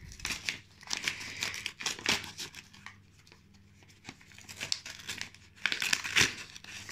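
Plastic wrapping on a video game case being opened, with irregular close crinkling, rustling and tearing bursts, quiet overall and without talk.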